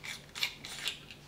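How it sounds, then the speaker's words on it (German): A large flathead screwdriver backs screws out of the cover plate on a Glock 34 pistol, giving soft, close ratcheting clicks and scraping in a few short bursts around quiet pauses. "dafür brauchen wir dann einen kleinen oder in dem Fall größeren Schlitzschraubenzieher und schrauben wir mal die Abdeckplatte etwas runter"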